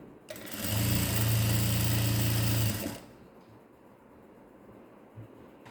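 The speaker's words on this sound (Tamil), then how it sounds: "நம்ம மடக்கி ஒரு ஸ்ட்ரைட் தையல் போட்டுட்டு வந்துடுவோம்" Electric sewing machine running a straight stitch on a blouse, a close, steady whirring hum lasting under three seconds that then cuts off, leaving a quiet room with a soft click.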